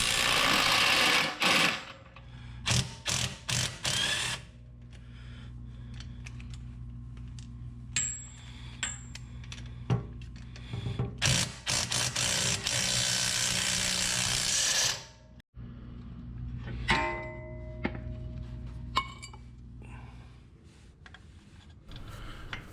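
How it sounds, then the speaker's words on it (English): Hand tools work the bolts on a Jeep's Teraflex steering stabilizer, giving intermittent clanks, ratcheting and short bursts of power-tool whir separated by quiet gaps, close by. "Then we remove the axle side bolts, allowing the stabilizer to be completely removed"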